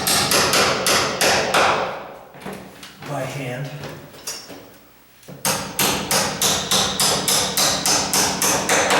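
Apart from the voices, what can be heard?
hammer tapping on a door hinge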